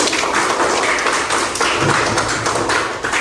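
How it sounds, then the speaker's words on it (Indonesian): Dense, steady clapping from a group of students applauding themselves in a classroom, close and loud, continuing without a break. "Sekali lagi kita tepuk tangan untuk diri kita sendiri"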